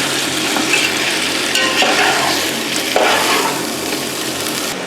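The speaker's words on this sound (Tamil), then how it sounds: "சிக்கன் வதங்கிடுது." Chicken sautés in a pan for biryani, a loud steady sizzle close by with scraping stir strokes and surges of crackling, no talking.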